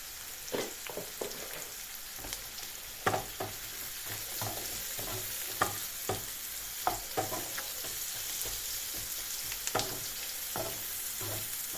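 Onions sizzle and crackle steadily in a hot pan while cooking an artichoke dish, with occasional clacks of a utensil stirring them at irregular intervals.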